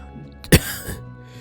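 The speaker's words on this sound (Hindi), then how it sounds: "माफी चाहता हूं कि थोड़ी खांसी आ गई है" A single short throat-clearing cough, close and sharp, followed by a softer second huff, then quiet.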